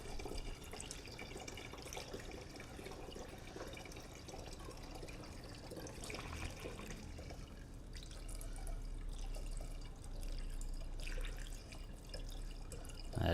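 Water drips and trickles around a Chevy Spark windshield washer pump, with irregular small drips and splashes over a low background hum that grows slightly louder toward the end; no speech.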